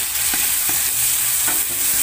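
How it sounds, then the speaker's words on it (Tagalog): Sliced bottle gourd and shrimp sizzle in a hot pan, a bright steady frying hiss broken by several scraping strokes of a spatula stirring the ingredients, close and clear with no talking. "O, hayaan mo na natin maprito-prito."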